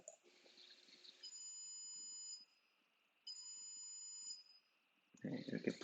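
A hamster coding robot's buzzer sounds two sustained electronic beep tones separated by a pause. They are faint and steady, followed by a brief burst of louder background noise at the end.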